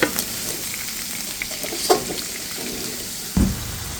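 Spices sizzle in a hot pan with fried onion and a little added water while a utensil stirs them, with a couple of sharper scrapes and clunks against the pan.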